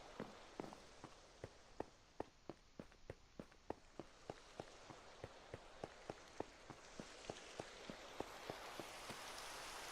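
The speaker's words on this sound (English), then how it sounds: "Is it me or is it raining?" Modded Minecraft rain falls as a steady soft hiss while regular footsteps tap through it at a walking pace for ten seconds, all fairly quiet.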